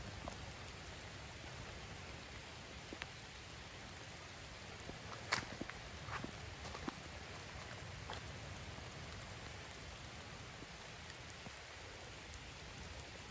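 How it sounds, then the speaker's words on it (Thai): Steady rain falls in a broad, even hiss throughout, with a few louder drips and taps standing out midway, heard from a rural hillside setting with no voices. "ฝนมันตกปล่อยๆนะ"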